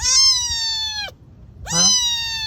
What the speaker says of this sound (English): Are you a feral cat?